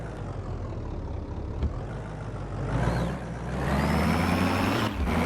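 A truck idles in a video game, a loud, continuous low engine rumble with a rising hiss of air and a thin whine near the end, with no talking.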